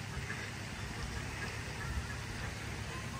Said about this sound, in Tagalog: Daming pato.